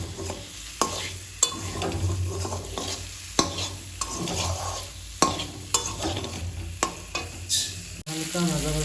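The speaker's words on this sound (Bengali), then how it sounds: "লো ফ্লেমে করে একটু নাড়াচাড়া করে নেবো।" Fish sizzles gently in a pan over a low flame while a spatula stirs it, scraping and knocking against the pan in repeated sharp strokes over a steady frying hiss.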